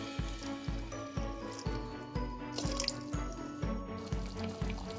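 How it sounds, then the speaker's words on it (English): Water is added to a cooking pot of salna curry thickened with besan flour, producing faint, rhythmic splashing pulses that repeat about every half second with no talk. "Now I'm going to add in some more water."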